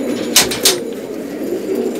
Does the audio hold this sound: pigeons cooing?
yes